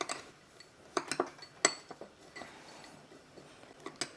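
Crushed peanuts, sesame seeds and sugar are stirred together in a bowl, making scattered light clinks and taps of a utensil against the bowl, soft and close, with quiet rustling between the hits and no speech.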